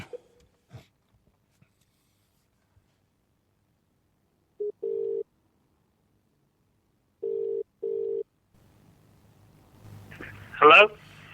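Telephone tones on a call being placed to a radio show: three short steady beeps after near silence, a brief tone at the start, then rustling and a rising sweep at the end, with no speech over the tones.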